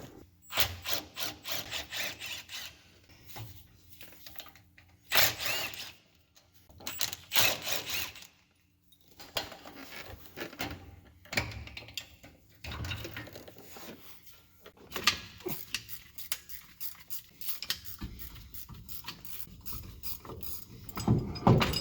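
A ratchet loosens drive shaft bolts underneath a Ford F-250/F-350 pickup, with bursts of sharp, close ratcheting clicks and metallic knocks separated by brief pauses.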